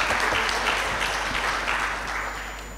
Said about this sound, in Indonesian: tepuk tangan untuk Pak Aris ya